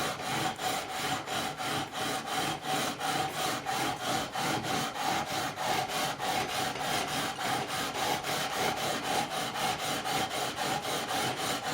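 Gibson Les Paul guitar frets are sanded with 400 grit paper in fast, even back-and-forth strokes, a close, rhythmic scratchy rasp that continues without pause for the whole stretch.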